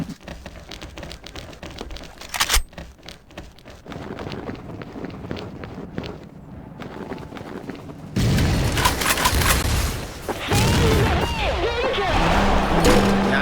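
Grenade blasts and automatic gunfire from a competitive XSHOT online shooter match, a dense, continuous barrage of rattling shots and bursts that grows louder and heavier partway through, with a commentator talking over it.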